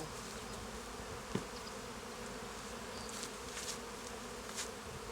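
Honeybees buzzing faintly around a beehive being moved by a beekeeper, a soft continuous drone with one sharp tap early on.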